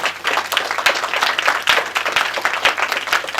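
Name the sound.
audience applause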